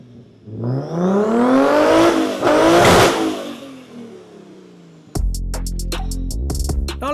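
A Mercedes fitted with a Toyota 2JZ engine and a straight-through exhaust revs hard, the note rising and falling loudly, then it drops into a rough, crackling idle with rapid popping.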